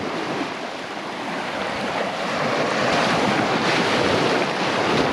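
Water rushes and washes at the entrance to Poole Harbour in the early morning as the tide floods in, a steady broadband surge of surf layered with gusty wind noise, growing slightly louder.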